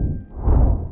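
A single soft whoosh swells and fades in under a second, a broad airy rush peaking midway.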